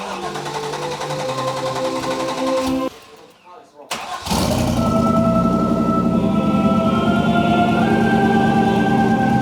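A turbocharged street-tuned Chevrolet Camaro Z28 engine runs loudly, cuts out for about a second, then cranks back up and keeps running with a steady, rough idle.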